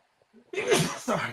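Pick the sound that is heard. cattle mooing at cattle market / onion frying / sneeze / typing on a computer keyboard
sneeze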